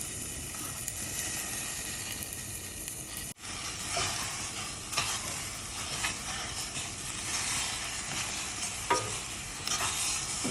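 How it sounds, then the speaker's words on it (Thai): Steady, crackling sizzle of pork stir-frying in a hot pot with a little water, with occasional scraping and clanking as it is stirred; continuous and close, no voices. "เดี๋ยวเราจะลวนหมูให้สุกอีกนิดนึงนะคะ"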